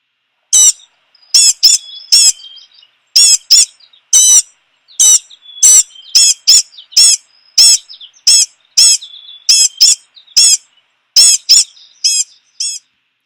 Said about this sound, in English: that is the blue-gray gnatcatcher